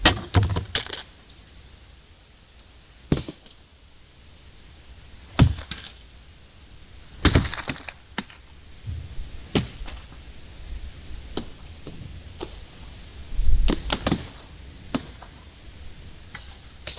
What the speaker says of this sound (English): something intermittently throws rocks at my gear